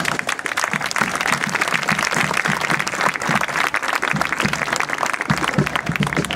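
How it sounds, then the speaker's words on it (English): An outdoor audience at a military academy's final parade applauds the instructors, a steady wash of dense clapping from a large crowd, fairly loud and sustained throughout. "Let's give them a well-deserved round of applause."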